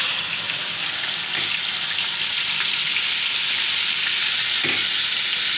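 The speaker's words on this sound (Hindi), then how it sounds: "इस जीरे की बड़ी ज़बरदस्त खुशबू आती है, जीरे का बड़ा ज़बरदस्त किस्म का बघार लगता है।" Cumin seeds temper in hot oil, giving a steady, close sizzling hiss with a couple of soft clinks and no voices.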